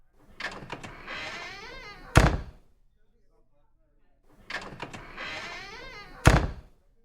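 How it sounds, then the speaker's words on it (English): A door shuts twice in a radio drama, each time with a sharp, heavy thud after a short stretch of rustling movement, close and loud, separated by near silence. "The door closes."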